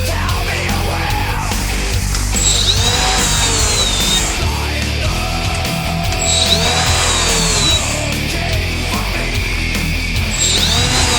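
A high-RPM handheld power tool with four speed settings up to 24,000 RPM runs loud and close, a steady whine with rising and falling pitch sweeps as the speed or load changes repeatedly.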